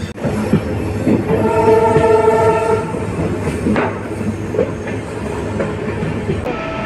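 The Pamban Express passenger train between Rameswaram and Tambaram rolls along the track, loud and near, wheels rumbling continuously while a sustained horn blast sounds early on.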